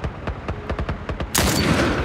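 Rapid gunfire from a firefight in the video game The Last of Us Remastered on PS4: about a dozen sharp shots in quick succession, followed by a louder, sustained burst of blasts and debris noise.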